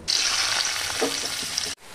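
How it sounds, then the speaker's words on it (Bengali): Chopped coconut fries in a pan with a loud, dense, even sizzle and a few soft stirring scrapes, heard up close, cutting off abruptly near the end. "নারকেলটা আমি কুচিয়ে রেখেছি, নারকেলটা আমি ভেজে নেব।"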